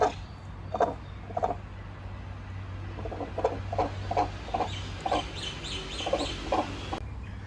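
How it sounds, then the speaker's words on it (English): Pheasants at a zoo give repeated short clucks and calls at a moderate distance over a constant low hum, with no one speaking. "So they got some pheasants here"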